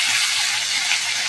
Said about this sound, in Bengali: আদা রসুন বাটাটা পেঁয়াজের সাথে একটু ভেজে নেবো